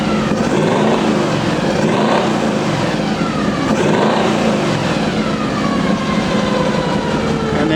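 A Chevrolet Nova with an EFI engine revving hard, loud and close: two sharp throttle blips rising and falling, then a long climb in revs before dropping back toward idle, with no voices.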